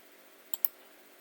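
Two quick faint clicks sound on a computer keyboard as keys are pressed for a Ctrl+V paste, about a tenth of a second apart in a quiet room.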